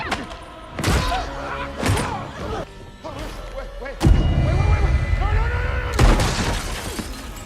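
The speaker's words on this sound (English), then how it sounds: "Then comes the shotgun." Shotgun blasts in a horror movie chase scene, several loud booming shots with sharp crashing impacts and echoing tails, spaced a second or two apart.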